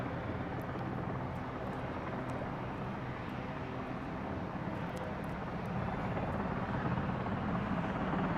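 A large search-and-rescue helicopter with an automatic flight control system hovers at a VE Day air show, a loud steady rotor and turbine roar filling the air continuously without letup.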